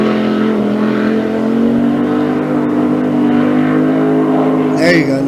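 Circle race boat engines at a Thanksgiving regatta roar steadily and loudly throughout, with a sustained low drone and rising revs, under a mixture of crowd noise and talking.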